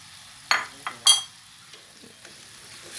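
Tofu skin stirred in a hot pan, with a few scraping utensil strokes over a steady soft sizzle of frying, close up and with no voices.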